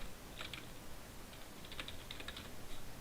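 Someone types on a computer keyboard while working in Photoshop, producing quiet, irregular clusters of light key clicks with short pauses between bursts and no talking.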